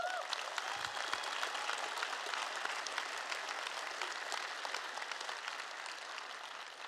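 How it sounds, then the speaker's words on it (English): A crowd at the EVE Fanfest 2011 stage presentation applauds steadily, a dense even wash of clapping that holds throughout with no voices over it. "we should all applaud him for that"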